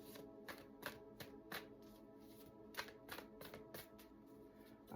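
Tarot cards shuffled side-on by hand, a steady run of soft riffling flicks with sharper snaps now and then, close and quiet, with no voices.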